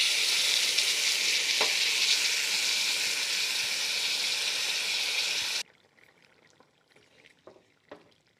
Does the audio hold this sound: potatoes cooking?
yes